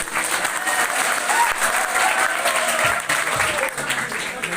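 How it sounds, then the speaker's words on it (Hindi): Dense applause from an audience at an event honoring a Bihar school board exam topper, a continuous, fairly loud wash of clapping that carries on steadily throughout. "ताली"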